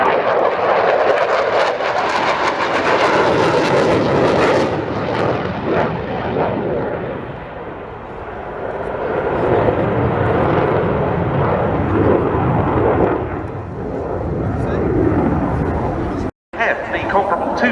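A jet aircraft flying a display at the RIAT airshow roars loudly overhead, its engine noise swelling and fading, while a commentator talks over the public address throughout.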